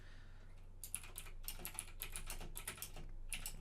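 Bursts of computer keyboard typing, rapid clustered key clicks with brief pauses, close and fairly quiet against a faint steady background hum.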